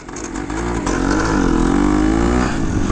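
A 1971 Yamaha RT1 360 two-stroke enduro motorcycle revs up nearby and pulls away, with a buzzy engine note rising and holding at a loud, steady pitch.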